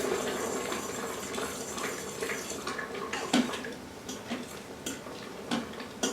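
Liquid is poured into a bubbling Instant Pot while being stirred, with a spoon clicking against the pot. Faint trickling and simmering run under irregular light ticks and taps, close by and quiet.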